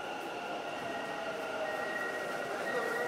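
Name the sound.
Bengaluru Yellow Line metro train running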